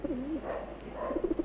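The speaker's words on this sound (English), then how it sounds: "There's the pigeon there." A homing pigeon coos close by, a soft warbling rolling call followed by a few short throaty pulses, heard alone over a low background hum.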